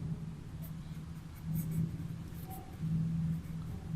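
Chalk or marker writing on a board during a physics lecture on electrostatics, steady soft scratching strokes in quiet room tone, with two slightly louder bursts of writing.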